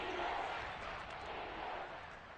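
Stadium crowd noise in a Madden football video game, a broad steady roar of fans swelling slightly as a big third down approaches, heard alone without talk.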